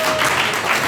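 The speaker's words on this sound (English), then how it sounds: "another round of applause for him" A brief burst of audience applause at an open mic showcase, dense and fairly loud, lasting under a second.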